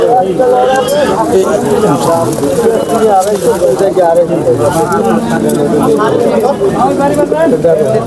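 Bombay pigeons coo at Nazirpur bazaar's pigeon market, their soft repeated calls mixed into dense crowd chatter and nearby voices.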